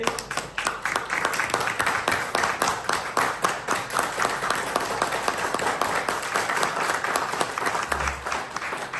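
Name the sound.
applause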